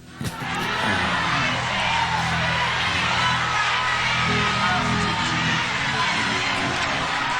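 A church congregation cheers and shouts loudly in a large sanctuary, a sustained roar of whoops and crowd noise with voices mixed through it.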